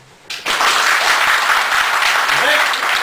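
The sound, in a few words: audience members at the back clapping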